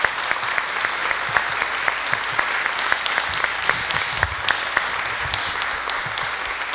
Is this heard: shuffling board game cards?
no